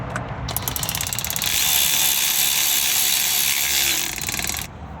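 Ratcheting as 8mm screws are tightened into a new speed sensor housing on a Club Car golf cart, a rapid, close, steady clicking run that swells louder midway then stops.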